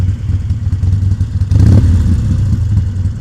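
A motorcycle engine rumbles low and close on an evening ride, with a brief throttle blip that swells the sound halfway through before it settles back to a steady drone.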